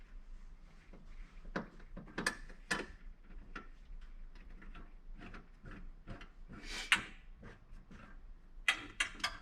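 A ratchet tightens bolts during a drawer and slide floor install in a Ford Bronco, giving irregular bursts of close metallic clicks and clatter with small knocks between them, and no voice is heard.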